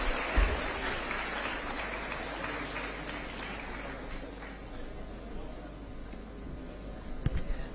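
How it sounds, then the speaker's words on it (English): An audience at an annual event in a convention hall applauds a guest's arrival, a broad, rain-like patter of many hands clapping under a low hum, steady and moderately loud before tapering slightly. "Join me in extending a warm and enthusiastic welcome to Ms. Amla Akineni. A huge round of applause."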